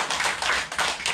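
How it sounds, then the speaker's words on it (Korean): Church congregation applauding during a Korean sermon, a steady close patter of many hands clapping together for about a second, loud and unbroken with no talking. "주님께 박수 한번 주세요"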